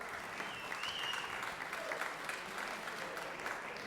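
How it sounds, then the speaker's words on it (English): Crowd applauding for the owner of a cobbler company at a legislative session, steady dense clapping that holds evenly for the whole stretch at moderate distance. "let's give him a round of applause right here"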